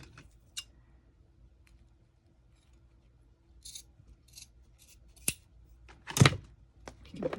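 Scissors snipping a handmade craft tassel, a few sparse sharp cuts and small handling clicks in a quiet room, close by, with one louder snap near the end.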